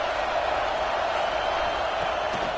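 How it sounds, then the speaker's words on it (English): Dense, steady roar of a large stadium crowd at a Notre Dame college football game, loud and continuous throughout with no distinct voices standing out. "This crowd bringing the energy and noise early."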